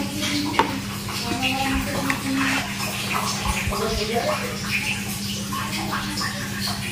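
Food is stirred and mixed in a pan, with clinking and scraping of a utensil against metal over a low steady hum. A voice talks intermittently throughout.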